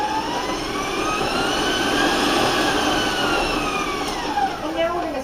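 Electric mixer beating cookie dough with green candied cherries, a steady loud whirring drone that holds throughout with a slight pitch shift near the end.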